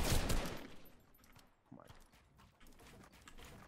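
Gunfire in a Fortnite Battle Royale squads match, a loud burst of shots at the start followed by scattered fainter shots and game sounds further off.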